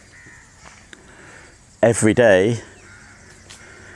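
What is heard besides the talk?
crow cawing by a lake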